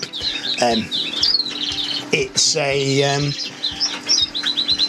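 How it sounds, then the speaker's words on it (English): A young male fife canary in an aviary bird room gives several short, bright chirps and twittering calls with some wing flutter, fairly close, amid other cage noises; someone says a word. "I've heard it chirp away and seen it chirp away."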